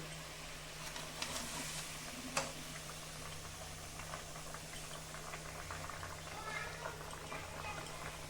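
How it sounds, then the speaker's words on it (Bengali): Gravy for Katla fish posto bubbling steadily in a pan, a dense, continuous crackle and simmer with a low steady hum beneath and one brief clink partway through. "বন্ধুরা, ঝোলটা ফুটে গেছে"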